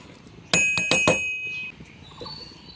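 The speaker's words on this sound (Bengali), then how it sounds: "ঢাকনাটা দিয়ে দিচ্ছি।" A lid is set onto a small steel mixer grinder jar, giving four quick bright metallic clinks in close succession, followed by a faint ringing tail and a softer tap.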